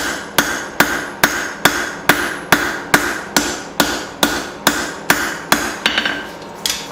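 Straight-peen hammer forging a Bowie knife blade, about fifteen sharp metallic ringing strikes in a steady, even rhythm, close and loud, each blow decaying briefly before the next.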